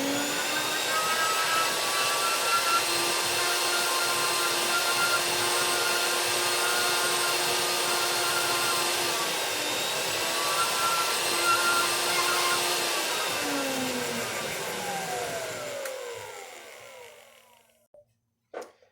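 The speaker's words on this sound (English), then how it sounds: "a vacuum that takes off all the dust away, and it has a filter in there." Dust extraction vacuum with a filter on a polishing hood, a loud steady whining roar with high tonal hum that holds, then winds down and cuts off near the end.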